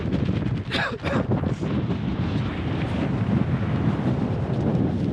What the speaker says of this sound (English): Woo, very windy.